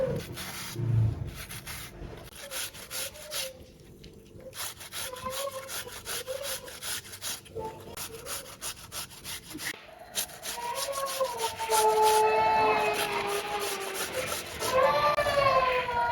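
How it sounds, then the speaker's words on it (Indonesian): A cucumber rubbed against a cheese grater, giving steady rasping strokes in a continuous repeated rhythm at close range. Faint background tones run underneath and no one talks. "timun ini akan saya serut pakai serutan keju kayak gini"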